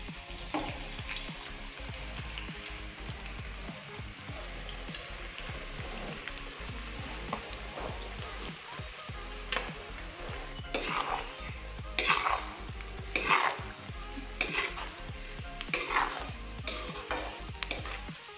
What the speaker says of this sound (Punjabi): ਸਭ ਤੋਂ ਪਹਿਲੇ ਤੇਲ ਵਿੱਚ ਅਸੀਂ ਪਿਆਜ਼ ਐਡ ਕਰਾਂਗੇ।